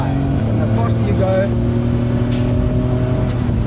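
A BMW with a straight-six engine hums at high revs with a steady, loud drone, while someone talks over it.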